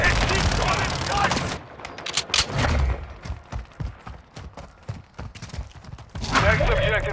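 Heavy gunfire in a first-person shooter game, with a loud opening barrage, then scattered single shots and thuds, and another dense volley at the end, with voices talking over it.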